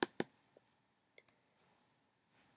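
Mouse clicks on a chemistry web page link: two sharp near clicks in quick succession, then a softer tap and two more clicks a second later, with faint rustle between them.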